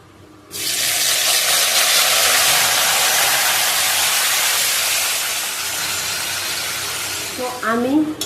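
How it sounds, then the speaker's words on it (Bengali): Spice-marinated chicken hits hot oil already holding fried onions, cinnamon, cardamom and cloves, a sudden loud hiss that settles into a steady strong sizzle, with a brief voice near the end. "বেরেস্তা ভাজা তেলের মধ্যে আমি গোটা গরম মশলা মানে দারচিনি, এলাচ আর লবঙ্গ দিয়ে দিচ্ছি, আর দিয়ে দেব সব মশলা মাখানোই ম্যারিনেট করা মাংসটা"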